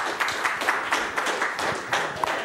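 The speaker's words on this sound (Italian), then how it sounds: "Un applauso." Studio audience on an Italian TV show claps steadily, a brisk run of many hands close by, with no talk over it.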